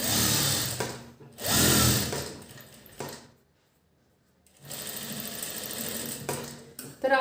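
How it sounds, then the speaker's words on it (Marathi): Sewing machine stitching fabric in two loud bursts with a brief pause between and a near-silent gap before it runs again for a longer stretch; close and no talk over it. "आता आपण याला ना पुन्हा एकदा एक टीप मारणार आहोत म्हणजे उकलणार नाही"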